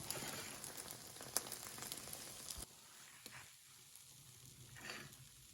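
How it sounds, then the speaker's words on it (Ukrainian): Quiet sizzling of an egg pancake frying in a pan, with faint crackles and a few soft clicks, the sizzle dropping lower partway through. "Просмажую з обох боків."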